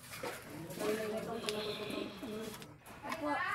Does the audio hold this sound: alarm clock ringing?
no